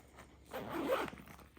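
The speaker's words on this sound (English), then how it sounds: "I'm going to partially zip this up just so it's easier once it's more packed to fit things in" A zipper drawn partway along a packed Lily Jade Large Anna bag: one smooth, quiet, close zip lasting about half a second.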